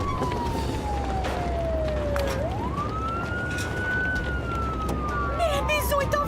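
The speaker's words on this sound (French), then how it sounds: "Cool, regardez, il y a plein de voitures de pompiers." Toy Playmobil fire engine sirens wail in continuous rising and falling sweeps, loud and close, with faint clicks and a second siren overlapping near the end.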